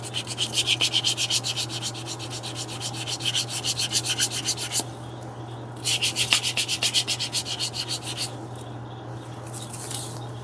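Rapid rhythmic rasping strokes of 400 grit sandpaper rubbing a leather edge, close and steady in two bursts separated by a short pause, with a low hum underneath.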